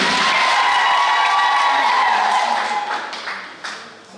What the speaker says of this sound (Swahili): Wapi makofi jamani.